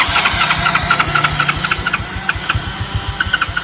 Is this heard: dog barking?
no